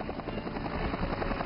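A helicopter hovers in a timed bottle-opening challenge, its rotor producing a short burst of steady, close whirring thrum throughout.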